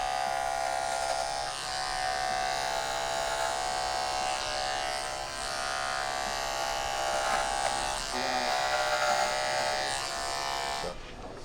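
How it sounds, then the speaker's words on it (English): Andis cordless outliner hair clipper buzzing steadily and close during a haircut on thick, bulky hair, a constant electric whine with slight shifts as it moves, cutting off near the end. "Andis cordless outliner"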